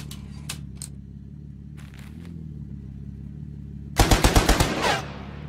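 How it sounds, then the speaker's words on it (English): Gunfire in the Achtung! Cthulhu Tactics video game: a quick burst of about six loud, rapid shots after a stretch of quiet ambience with a few faint clicks. "Taking the shot."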